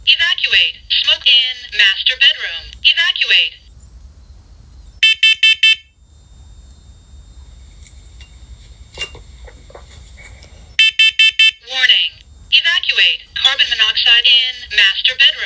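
A First Alert PC900V talking smoke and carbon monoxide alarm sounds in loud bursts of sharp, piercing beeps, with a recorded voice announcing between the beep groups.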